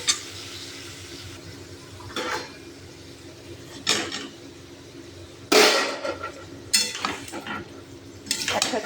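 Boiled mutton and potatoes stirred into hot oil in a pot for mutton curry: scattered scraping and clanking strokes of a spoon against the metal pot over a faint background hiss, with gaps between strokes.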